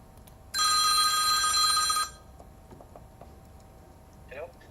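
A telephone rings in one steady, loud burst lasting about a second and a half, then stops. A faint voice follows in the quiet afterward.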